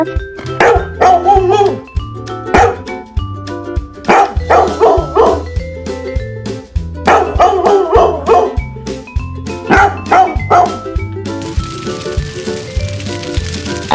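Cartoon-style dog barks ring out in short repeated bursts over a steady, bouncy children's music track, loud and close, with no talk.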